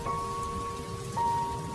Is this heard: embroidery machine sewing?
no